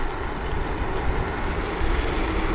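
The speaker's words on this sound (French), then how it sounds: "On va quand même activer le double moteur les gars" An Ausom L2 dual-motor electric scooter runs on a flat road with both motors engaged, giving a steady loud whirring drone mixed with wind rush, continuous and close.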